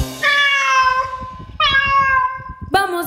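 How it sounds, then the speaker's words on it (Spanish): A cat on a roof meows three times in clear, harmonic, drawn-out calls, the last one rising sharply, close and loud over light background patter. "El gato que en el techo está"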